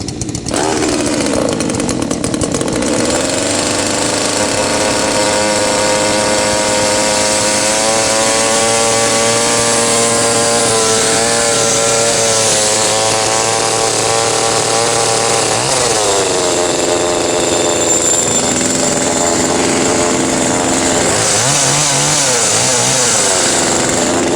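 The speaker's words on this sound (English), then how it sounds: "this is a pretty handy little chainsaw. Nice and light." A small, lightweight chainsaw cold-starts after a brief rattle and then runs steadily at idle, with a loud buzzing two-stroke drone close by and short revs that rise and drop near the end.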